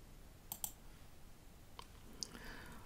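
A few faint, crisp computer mouse clicks sound in a quiet room while navigating a Canvas discussion, spaced irregularly over a low background hiss.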